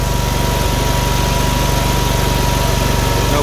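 The engine of a 72-inch Dixie Chopper Classic 3372 commercial-grade zero-turn riding mower idles with a loud, steady, low throb and an even rapid pulse, close by and with no talking.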